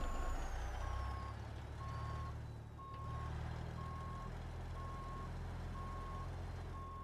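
In American Truck Simulator, a truck's engine rumbles steadily as evenly spaced reversing beeps repeat throughout, loud and close, with no talking over them.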